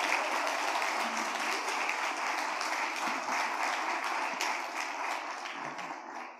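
A church congregation applauds during an ordination ceremony at a church anniversary service. Many hands clap in a full, steady wash that holds for several seconds and then tapers off.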